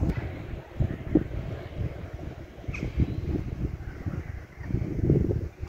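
Strong wind buffets the microphone in gusty low rumbles, rising and falling continuously with no other clear sounds; a neighborhood outdoors in a morning windstorm.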